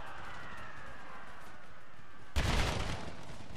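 An opening barrage of artillery and musket fire in an American Civil War battle game, near Washington D.C.: a quiet, hissing battlefield ambience suddenly gives way to a loud, dense burst of gunfire and cannon blasts that then settles into sustained rumbling.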